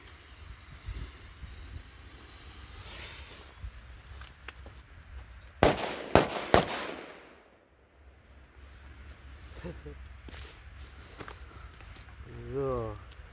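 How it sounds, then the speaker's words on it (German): Three C-Böller firecrackers go off on impact at a New Year's Eve outing: a sharp burst of close bangs in quick succession breaks a low background rumble, followed by a hush and later faint outdoor sounds. "Dann noch 3x C-Böller Aufschlag"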